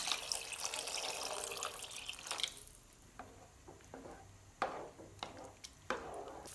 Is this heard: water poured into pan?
yes